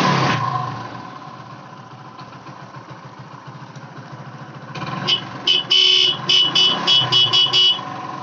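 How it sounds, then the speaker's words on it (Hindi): An engine idles steadily, then a car horn honks repeatedly in short, uneven toots near the end; the car's battery is not charging. "देख सकते हो हॉर्न बज रही है"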